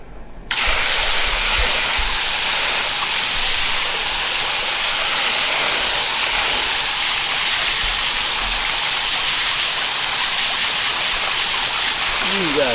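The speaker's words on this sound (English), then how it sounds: "We're here to wash out another t-shirt." A stream of water runs hard and continuously while a dragon fruit, blue violet and deep purple heart tie-dye t-shirt is rinsed out. The rinse sounds loud, close and steady, with a voice talking faintly beneath it.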